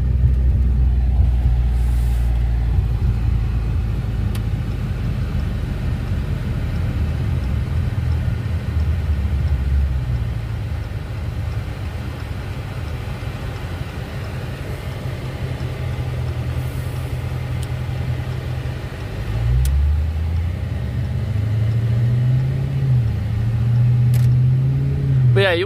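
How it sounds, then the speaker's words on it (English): A car engine idles and rumbles steadily up close, with a couple of revs toward the end, alone without talk. "I just want to hear the car. I love the way it sounds."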